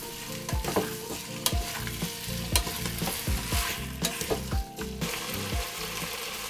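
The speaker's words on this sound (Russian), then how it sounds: "15 минут мы это обжариваем." Solyanka ingredients with tomato paste frying in a Redmond multicooker, a loud close sizzle broken by repeated rhythmic stirring scrapes and clacks of a spoon against the bowl.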